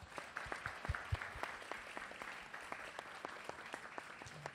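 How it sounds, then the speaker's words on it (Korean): A church congregation gives a round of applause to God at the close of a summer ministry gathering. Fairly quiet, even clapping runs throughout, with a few sharp low thumps near the start. "우리 모두 하나님께 영광의 박수 한번 올려드리면 좋겠습니다"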